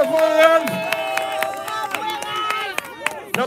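Crowd at a Haitian protest demonstration in New York claps and cheers over music with a strong tonal melody, busy and lively, with scattered sharp hand claps and voices mixed throughout.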